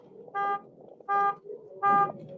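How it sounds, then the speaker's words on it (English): A car alarm sounds three loud, evenly spaced electronic honks over a low background murmur. "the alarm decides to go off in a car."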